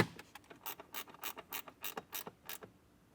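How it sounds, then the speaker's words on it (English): Screws on a 2024 Jeep Wrangler speaker install are tightened with a ratcheting wrench, giving a quick run of about a dozen faint, crisp clicks in an even rhythm. "we can screw the screws on the side here"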